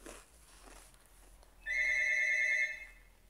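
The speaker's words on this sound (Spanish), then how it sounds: "Okay, es el teléfono." A telephone rings once, an electronic tone lasting about a second. It stands out clearly over faint room noise in a quiet indoor setting.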